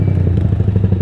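A motorcycle fitted with an Orion muffler revs under the throttle, giving a loud, close, steady pulsing engine note.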